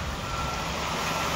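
Vehicles reverse along a flooded street in Arrecife, sending out a steady, loud reversing beep over heavy rumbling engine and water noise.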